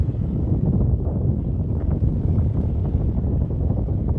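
Steady wind buffets the microphone with a continuous low rumble, loud and unbroken throughout, with no voices, beside the Subarnarekha river near the Rameswar temple.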